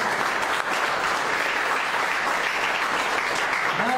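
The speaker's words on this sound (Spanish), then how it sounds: "Dale una ofrenda de palmas a Él." A church congregation claps together in steady, dense applause that fills the room evenly for the whole stretch, loud and close, with no single voice standing out.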